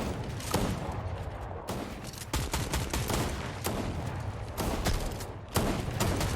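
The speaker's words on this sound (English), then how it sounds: "Shotgun shots coming in." Shotgun fire in a video game match: a loud, dense barrage of overlapping blasts and booms rolling on continuously without a pause.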